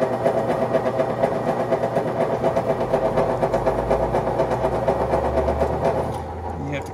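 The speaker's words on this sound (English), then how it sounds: "put the lathe in low gear" A lathe runs steadily in low gear while winding a small spring on a Hemingway spring winder, giving a loud, continuous mechanical whir with a regular pulsing rhythm that softens near the end.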